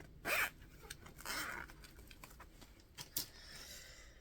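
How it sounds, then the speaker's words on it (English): A zipper rasps open or closed in a few quick, close pulls, with short scratchy bursts and small handling rustles between them in a quiet room. "Ooh, zipper."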